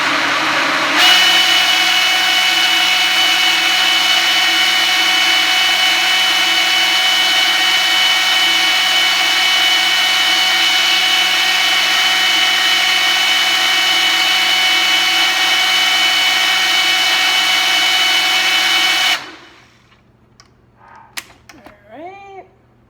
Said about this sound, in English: I'm gonna go ahead and blend this up a few times before I transfer it